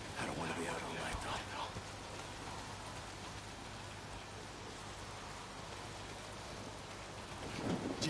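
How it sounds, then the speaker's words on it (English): Heavy rain pours in the video game Days Gone, a dense, steady hiss of downpour that fills the whole stretch, with faint voices briefly under it. "Well, not if it's pissing down rain."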